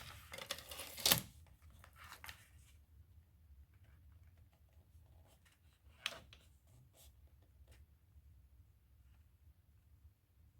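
Paper for a Christmas snow-globe scrapbook photo album is cut in a quiet room, with one sharp, close crisp snip, a few softer rustles, and another clear cut later.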